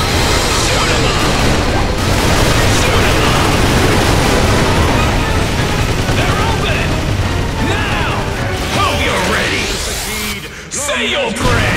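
Dense, continuous gunfire and booming blasts from Earth Defence Force World Brothers 2, loud and chaotic throughout, with game voices mixed in and a brief lull near the end.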